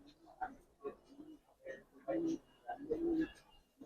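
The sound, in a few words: Giribaz pigeons cooing in a loft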